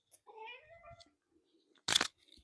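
A cat lets out a drawn-out, screaming meow close by indoors, followed after a short pause by a brief, harsh, noisy burst.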